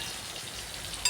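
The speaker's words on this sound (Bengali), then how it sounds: "আলুটাকে একটু ভেজে দিচ্ছি" Potato pieces fry in oil in a pan used just before for rohu fish, giving a soft, steady crackling sizzle throughout a short moment, faint and without talk.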